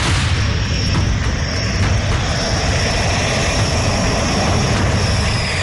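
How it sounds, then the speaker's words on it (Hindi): Rafale fighter jet of the Indian Air Force producing a steady, loud, broadband engine roar with a high whine, continuous and close throughout, no voices. "इन लड़ाकू विमानों को किसी भी ऑपरेशन में तैनात किया जा सकता है।"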